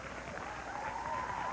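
Game show studio audience on Where in the World Is Carmen Sandiego? cheering and clapping, a steady moderate wash of crowd noise with a faint tonal whoop rising through it over a short burst.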